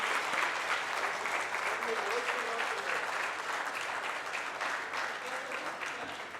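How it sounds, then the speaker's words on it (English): A hall audience at an All India Brahmo Conference session in Hyderabad applauds in a dense, sustained wash of clapping that holds steady and fades slightly toward the end, with no voices over it. "You all can clap for the people also while we are taking names"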